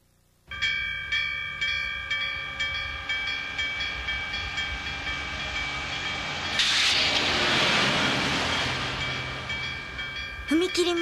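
A railroad crossing bell clangs steadily while a train rumbles past with a rising hiss, close and loud, ending in a brief squeal.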